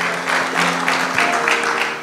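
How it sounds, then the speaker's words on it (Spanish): A church congregation claps loudly together at a first-anniversary worship service, a dense steady round of applause filling the room with a faint sustained musical tone beneath it. "Dele un aplauso fuerte a Dios"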